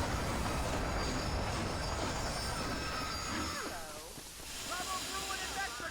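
A train in the video game Red Dead Redemption rumbling and braking to a stop, wheels squealing loudly as it slows. Someone talks over part of it.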